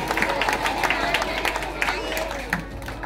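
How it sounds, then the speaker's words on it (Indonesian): Audience at a school's 50th anniversary thanksgiving Mass celebration applauds, a dense patter of clapping mixed with crowd murmur and cheering, fairly loud and continuous throughout. "Mari kita tepuk tangan dulu untuk SDK Baktiarsa."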